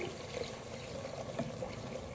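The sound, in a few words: water poured into pan of minced meat and peas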